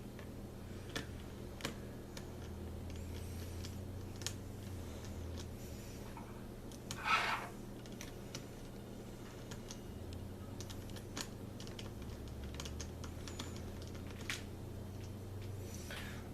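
A small Phillips head screwdriver backs out Phillips screws with faint, scattered ticks and clicks over a low steady hum, plus one brief louder scrape midway; no one speaks.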